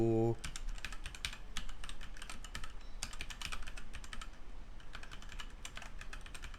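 Rapid, steady typing on a computer keyboard, close and clear, with bursts of clacking keys and brief pauses; no one talks.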